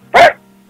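One short, sharp dog bark comes through a phone call, loud and close, then silence with a faint line hum.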